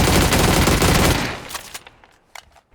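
PUBG gunfire, a loud dense automatic burst that stops abruptly, leaving a few fading echoes and light clatter.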